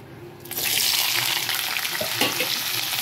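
Onions drop into hot oil already holding cinnamon, cloves, cardamom and kasuri methi for chicken curry, bursting into a loud, close, steady sizzle with a few stirring scrapes and no talk.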